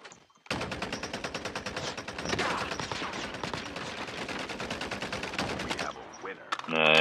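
Rapid automatic gunfire in a video game from DR-H and MK2 guns, a dense, loud stream of close shots lasting several seconds before cutting off into a brief electronic tone.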